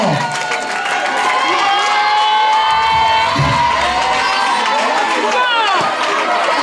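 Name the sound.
school audience applauding and cheering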